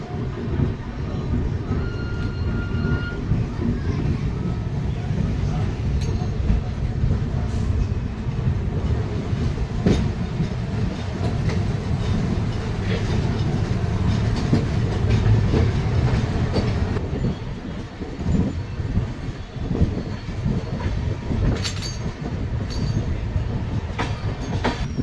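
The Rupasi Bangla Express pulls slowly out of Adra junction on a curve, wheels rumbling and clicking over rail joints with occasional squeals, a steady close rolling din throughout.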